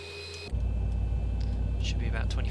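A Boeing 737 engine in the X-Plane 11 flight simulator spools up during start, a steady low rumble that rises suddenly and then holds as a continuous loud drone, with a faint voice in the background.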